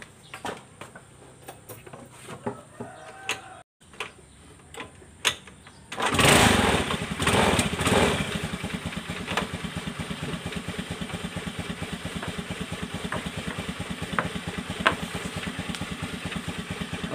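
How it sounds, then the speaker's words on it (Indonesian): Carbureted Honda Beat scooter engine with a white-smoke exhaust fault, cranking with sputters and clicks before catching, then running at a steady, fast-pulsing idle, close and loud. "Oke, motor ini sudah hidup."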